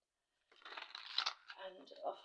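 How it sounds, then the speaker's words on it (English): Crisp riffling and rustling of tarot cards being shuffled close by, a steady papery flutter lasting a couple of seconds after a brief silence. "One more shuffle."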